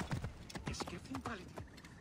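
Quick clip-clop of horse hooves at a gallop in the video game Assassin's Creed Origins, close and busy, with a voice speaking over it.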